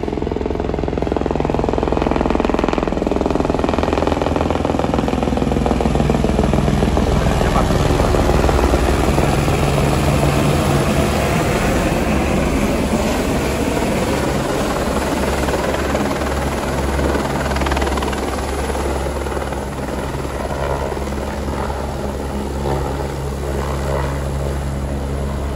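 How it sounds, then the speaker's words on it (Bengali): Helicopter over the Himalayan hills near Guptkashi, a loud continuous rotor and engine roar with steady chopping thrum sustained throughout, dense and close with no voices. "একটা হেলিকপ্টার যাচ্ছে এখান থেকে"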